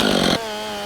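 A chainsaw freehand milling a log screams at full throttle, then abruptly drops to a steady, lower idle hum less than a second later.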